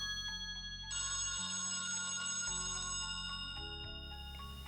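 A telephone ringtone plays as a stage play sound effect, a steady electronic ring lasting several seconds over a low, shifting tonal backdrop, with no one speaking.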